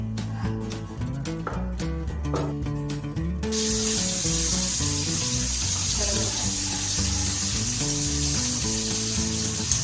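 Leftover paksiw is reheated in a pan, giving a loud, steady sizzle that covers most of the clip, with clinking and tapping at the start and a tonal background hum throughout.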